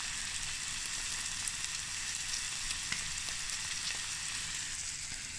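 South African sausage fries in a pan, producing an even, close sizzle with a dense crackle of tiny spits and pops throughout, heard alone without talk.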